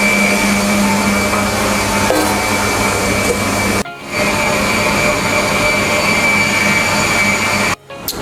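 A mixer runs at high speed, whipping chocolate cake batter so it rises quickly. Its loud, steady motor whine carries on without stopping, with two brief dips in sound, and no one speaks.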